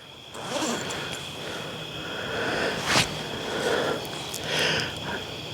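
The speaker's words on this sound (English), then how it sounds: "you got your zippers here on your bug net" A zipper is pulled in short strokes along a hammock bug net. There are several close, scratchy zips with a sharper tug near the middle.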